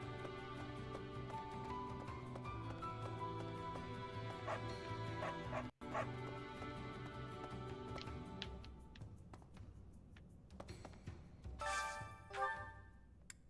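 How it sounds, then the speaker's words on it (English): A dog barks and yips in Fire Emblem: Three Houses, sounding in short repeated bursts over a steady layer of game music, with the barks and whimpers growing sparser toward the end. "What do you want, dog?"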